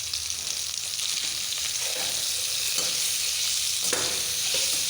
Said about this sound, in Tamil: பொடி சேர்த்து மிக்ஸ் பண்ணி விடணும்.